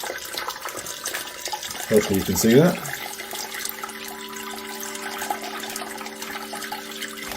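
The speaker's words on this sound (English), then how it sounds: "You just want to strain the grain" Homebrew Märzen mash grain strained through a bag set on a rack over a pan, with liquid splashing and draining in a brief burst of a second or so, then a quieter trickle under a voice speaking.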